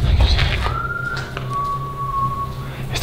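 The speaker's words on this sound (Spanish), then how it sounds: "Está silbando." A thin, sustained whistle drifts in at mid pitch, holding long steady notes against a low rumbling background, with no talking over it.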